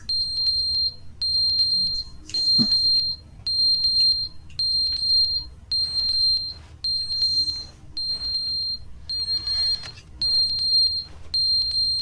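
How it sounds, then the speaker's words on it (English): A high, steady electronic beep repeats in an even rhythm, about once per second, throughout an indoor scene in The Stanley Parable, with a few brief louder clicks and rustles mixed in. "What's that beeping?"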